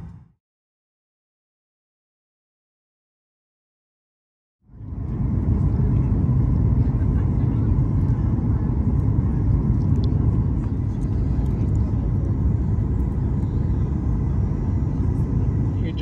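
Steady, loud cabin rumble of an airliner readied for takeoff on a trip to Jamaica, starting after a few seconds of silence and holding an even broadband drone with a faint higher whine throughout.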